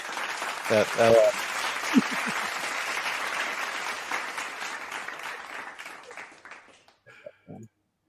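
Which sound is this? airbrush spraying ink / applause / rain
applause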